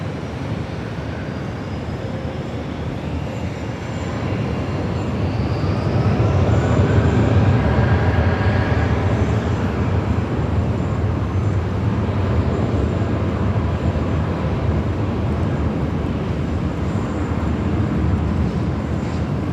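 Airliner taking off from runway 16 right at Sydney Airport, a broad steady engine roar that swells after a few seconds and holds loud and continuous throughout, with no voices.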